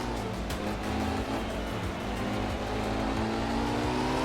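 Rally car engine in Art of Rally, a rear-engined car on a night gravel stage in Finland, droning steadily with rising revs throughout, loud and continuous with no talk over it.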